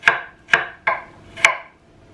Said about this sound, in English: just to chop the onions